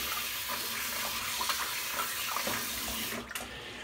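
Tap water runs steadily into a sink as hands are rinsed during a budget wet shave. The hiss and splash stay constant and close before briefly sputtering near the end, with no speech.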